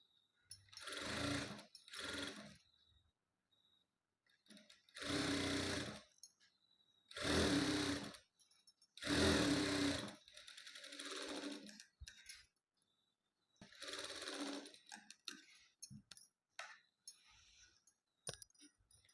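A sewing machine stitches blouse border pieces together in several short, close, rapid bursts of whirring with brief pauses in between, followed by lighter clicks and handling of fabric.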